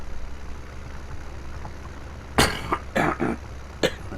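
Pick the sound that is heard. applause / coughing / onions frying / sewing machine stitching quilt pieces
coughing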